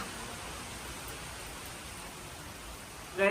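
Steady, even rain hisses throughout, soft and constant, with a brief louder rustle at the very end.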